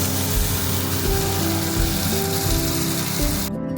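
Water poured into a frying spice paste for a rohu fish and papaya curry, giving a loud, continuous hiss and sizzle that cuts off abruptly at the end, with no talking.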